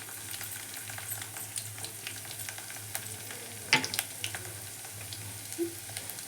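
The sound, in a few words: garlic, curry leaves and green chillies frying in hot oil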